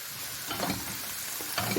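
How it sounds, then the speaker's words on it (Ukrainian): Buckwheat with minced meat and mushrooms frying and being stirred in a pan, a steady close sizzle with scraping stir strokes at intervals, no talk. "Все це разом підсмажую."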